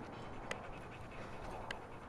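A dog pants quietly and steadily nearby, a soft faint breathing texture with a couple of brief sharper breaths and no talking.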